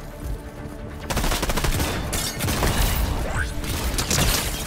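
Rapid pistol fire from a shooter video game crackles in quick bursts after a quiet first second, repeated shots stacking loudly with some mechanical clatter.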